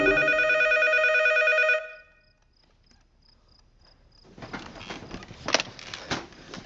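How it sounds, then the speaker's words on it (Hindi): A telephone rings at 5 am, a loud electronic trill that stops after about two seconds and leaves faint beeps in near silence, followed by rustling and handling noises. "जब सुबह 5 बजे बजता है फोन"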